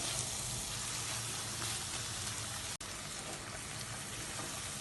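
Spice masala of coriander powder, salt and Kashmiri red chilli powder sizzles in a pan over a low flame, a steady dense frying hiss close by with one brief dropout and no talk.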